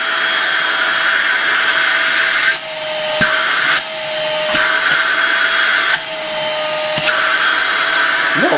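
A Novete VT-DH005 handheld vacuum cleaner runs close by with a loud, high-pitched motor whine, briefly dipping in pitch several times as something is sucked in or bumps the nozzle.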